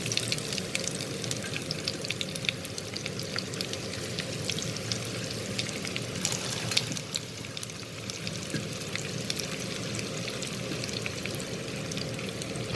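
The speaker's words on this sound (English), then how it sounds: "And I'll cook this till the onions becomes little translucent." Onions sautéing in a pan for chana masala, a continuous dense sizzle and crackle close by, steady and even throughout with no voices.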